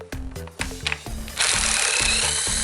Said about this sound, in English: Now you can proceed by removing a few bolts with 10mm